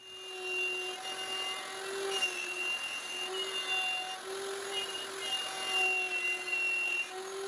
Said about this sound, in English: now we're going to do the second pass on the router